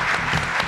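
Applause for a winning quiz show contestant in a television studio, a short, steady burst of clapping from the audience without a clear start or end.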